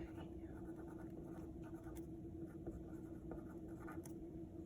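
A pen scratches across paper while labelling a skin diagram, with faint, quiet strokes in short bursts under a steady background hum, close to the microphone.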